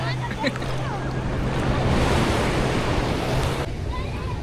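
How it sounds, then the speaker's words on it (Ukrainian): Sea surf washing in at a crowded beach in Spain, a steady broad wash of waves with wind noise on the microphone, loud and close, with brief voices at the start. "Ой, мама, волна."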